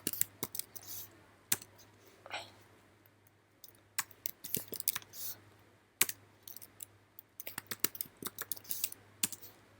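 Typing names into an Excel sheet on a computer keyboard: sparse, crisp key clicks in irregular bursts and pauses over a quiet low hum, close and fairly soft.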